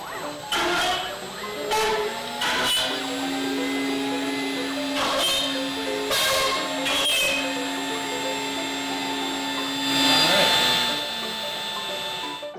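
An AVID CNC 4x8 Pro router runs with a loud, steady whine while its bit plows through plastic clamps, giving repeated sharp crunching bursts over the constant motor drone.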